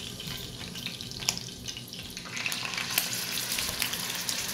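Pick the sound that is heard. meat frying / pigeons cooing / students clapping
meat frying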